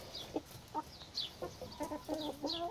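Hens clucking inside a homestead chicken coop on a hot day, a few birds calling in short, scattered clucks and squawks at moderate distance over a steady faint background hum.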